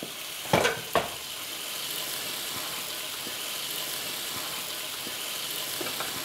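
Risotto sizzles and fries steadily in a hot pan, a constant crackling hiss after a couple of sharp clicks near the start as the heat is turned up.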